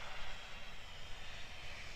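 A Cessna Caravan propeller plane near Queenstown Airport in snowy alpine country gives a faint, distant, steady engine drone with a hiss on top.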